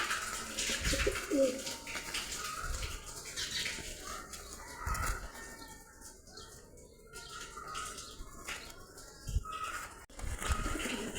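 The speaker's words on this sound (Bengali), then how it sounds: "এগুলো সব আমার থরের কবুতর" Soft, low pigeon coos repeat through a busy, rustling background, with occasional wing flaps and scuffles nearby.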